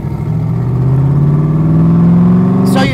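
A 1965 Backdraft RT4 roadster's engine revs loud and close, its droning pitch climbing steadily, then a short rushing burst near the end.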